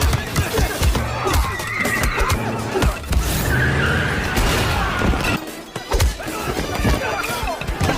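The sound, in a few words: white car arriving with skidding tires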